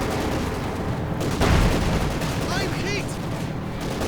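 Gunfire from Soviet anti-tank rifles and light machine guns crackles through a Company of Heroes 2 battle, dense rattling bursts with a heavier boom partway through and faint whistling effects, under a steady murmur of voices.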